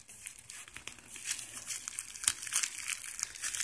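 A big knife slices into a cardboard box holding SEAFLO 4-inch inline fans, giving a steady close-up scratchy tearing and crinkling that grows louder toward the end, with no talk over it.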